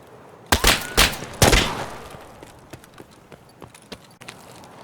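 Gunfire in Escape From Tarkov: two loud close shots, then a third, followed by fainter scattered cracks and thumps trailing off, with no talking.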